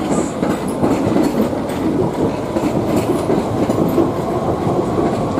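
A train sits at the station, giving off a steady loud rumble with dense rattling and clatter throughout and no clear voices.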